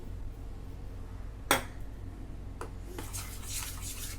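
Powdered sugar being stirred into shrikhand in a bowl, one sharp clink of spoon against the dish, then softer scraping and rubbing strokes, close and fairly quiet.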